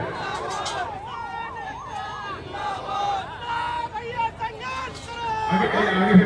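Wailing ambulance siren stuck in a traffic jam during a town shutdown protest, rising and falling tones over a loud crowd with shouting voices throughout.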